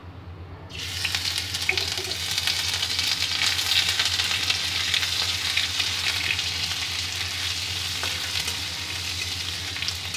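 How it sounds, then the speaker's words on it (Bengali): Grated ginger hits hot oil and bursts into a loud, dense sizzle that starts abruptly and continues steadily, close by and crackling, with no voices. "আর ওই তেলেই দিয়ে দেব গ্রেট করে রাখা আদা।"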